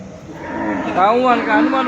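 A cow gives one drawn-out, wavering moo, loud and close, rising and falling over a couple of seconds.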